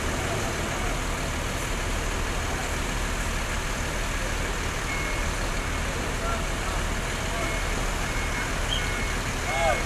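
Packed intercity bus departing from a terminal during the Lebaran homecoming rush, a loud continuous engine rumble mixed with dense terminal noise throughout.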